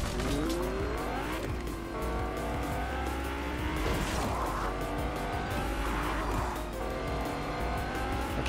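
A car drives on asphalt in Fortnite, the engine revving up and down with squealing tires and skids as it speeds through turns, loud and steady throughout with no talk over it.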